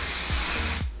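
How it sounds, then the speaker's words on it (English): A short, close hiss of an aerosol heat protectant spray on hair, with a few quick pumps under a steady misting rush that cuts off abruptly. "So I'm just going to spray that in my hair."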